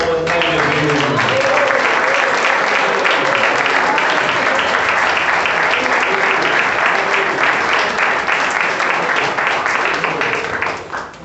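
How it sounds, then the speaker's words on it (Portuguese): A church congregation claps steadily and loudly for a long stretch, dense sustained applause filling the room, with voices audible beneath it. "Dê uma boa salva de palmas para Jesus."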